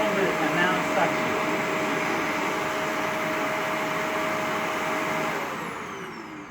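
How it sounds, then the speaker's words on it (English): Shark Rotator NV501 upright vacuum running at full suction, a steady loud whining motor drone with a rushing airflow hiss that winds down at the end as the motor switches off. "This is minimum suction, just letting air enter here, so there's less suction down there, and that's full suction."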